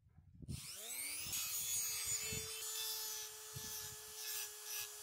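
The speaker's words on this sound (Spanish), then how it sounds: "Yo voy a hacerlo con esta herramienta, pero puede ser con una lima, con algo que pueda devastar el material y romper acá la lámina" A hand tool scrapes and abrades the thin cover plate over a fan's bushing to break it open, a steady close-up grinding rasp that runs continuously under a faint hum.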